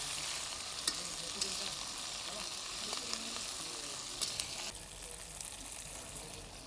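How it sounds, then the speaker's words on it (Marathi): Green chillies and garlic fry in a pan with a steady, moderately quiet sizzle and occasional faint stirring clicks, with no one talking. "मिरचीला आता चांगल्या परतून घ्यायच्या"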